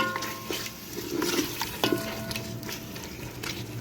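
Ground coriander is stirred into a hot pan while cooking shuljum ghost meat, with a steady low sizzle and soft scraping and clinking of a utensil against the pan, up close and continuous with no talking.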